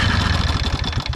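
A tractor engine's starter, fed straight from a jump starter battery touched to its terminal, spins hard in fast, rough, continuous cranking, close and loud.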